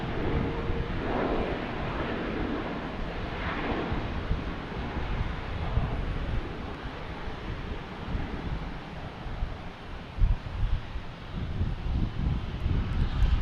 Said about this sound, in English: We got a JetBlue lined up there, an A220 heading to Denver, flight 993, and they got the clearance to take off